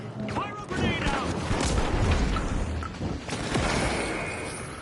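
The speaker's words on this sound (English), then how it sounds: "Pyro grenade out." A pyro grenade goes off in the shooter game The Finals, a dense, loud burst of crackling fire and explosive noise that stays heavy for several seconds, mixed with game effects and a talking voice.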